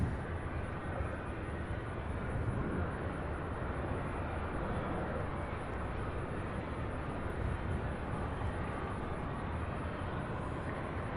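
A 22-year-old UPS McDonnell Douglas MD-11 cargo jet arrives from Ontario, California, giving a steady, distant broadband engine roar that holds at an even level throughout, with no voices.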